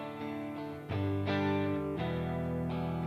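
A pair of electric guitars, one through a tweed amp and the other a 65 Verb cabinet, ring out sustained overdriven chords with a few distinct strums, heard alone and fairly loud.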